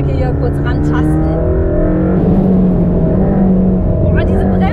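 A Mercedes-AMG GT Black Series sports car drives on a race track, its engine droning loud and close throughout with steady harmonic tones, while someone talks over it.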